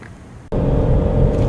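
A 2015 Ford Mustang GT with its V8 accelerates hard with the gas pedal floored, a quiet idle giving way abruptly to a loud, dense engine roar that holds steady and close.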